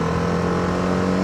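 The engine of a TVS Apache RR310 motorcycle revs steadily and loudly on a night ride in Delhi. The tone is dense and sustained and sits close to the listener.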